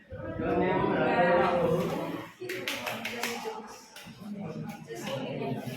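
Hands clap in a counting game, a few sharp claps in quick bursts between stretches of speaking, close and fairly clear.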